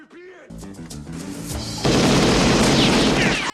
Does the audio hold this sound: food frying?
no